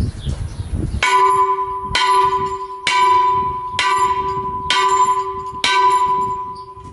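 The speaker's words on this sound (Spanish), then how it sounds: "Yo ahora voy a tocar la campana," A church bell in Yegros, Paraguay rings six times in a steady rhythm, each loud strike ringing out and overlapping the next, with no voices.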